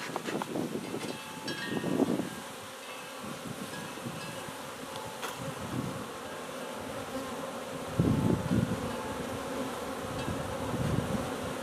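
Honeybees buzz steadily around an open hive during an inspection, a continuous insect drone with brief louder swells as bees pass near, lifting frames nearby.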